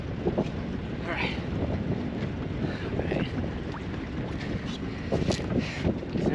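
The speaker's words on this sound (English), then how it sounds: "We're actually sailing." A sailboat moves under sail off Catalina Island, with steady wind buffeting the microphone, water sloshing against the hull and occasional creaks, while people talk faintly in the background.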